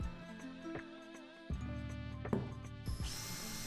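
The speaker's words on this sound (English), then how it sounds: "here I am, drilling these beautiful holes" A power drill whirs into wood in short bursts while boring holes for a workbench build, its motor pitch shifting between passes, with a few sharp knocks and no talking.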